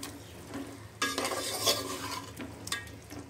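Fried chicken being stirred into sizzling gavran masala for a gavran chicken curry, loud frying hiss with spoon scrapes and clatter against the pot as the pieces are mixed in.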